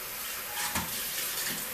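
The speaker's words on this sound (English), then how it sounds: "Let the hot water run in that." Hot water runs steadily from a tap into a soap mold being rinsed, a dense continuous splashing hiss with a brief surge partway through, and no talking.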